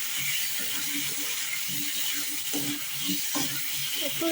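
Potatoes sautéing in a spice masala in a pan, a continuous hissing sizzle broken by intermittent scraping and stirring knocks, heard up close.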